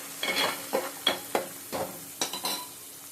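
Onion fries in a pan with curry spices and lentils, stirred in short scraping bursts over a steady sizzle, close and without speech.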